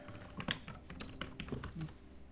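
Keys clatter on a computer keyboard in irregular bursts of clicks, moderately close, during a tabletop role-playing game session, with no voices over the typing.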